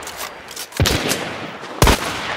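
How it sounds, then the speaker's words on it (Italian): Gunfire in the video game Hunt: Showdown: two loud, close gunshots about a second apart, each with a sharp crack and a short reverberant tail over a hissy ambience. "L'ho missato con un botto di colpi"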